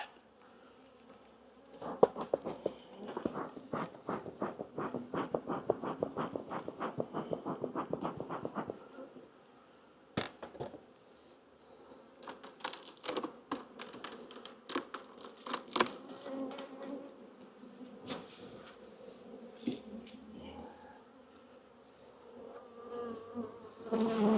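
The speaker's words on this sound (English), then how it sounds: "Check and make sure we don't have any bee fights going on down here." Honey bees swarm and buzz at an open beehive being worked with smoke, a dense, steady droning hum close by that later thins into scattered buzzing with crackly rustling and brief clicks.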